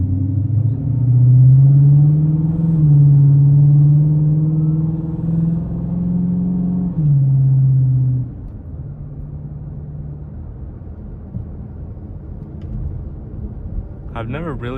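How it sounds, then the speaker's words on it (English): A 2006 Dodge Charger R/T V8 heard from inside the cabin while driving: a deep, loud engine drone that swells and wavers, then drops to a softer, steady low rumble. "I've never really driven a loud car like this, but like I kind of like the noise"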